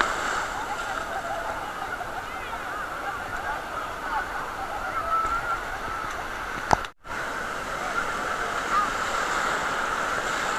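Sea waves rolling onto a beach at Digha make a steady, continuous wash of surf with wind noise, briefly cut by a short handling knock.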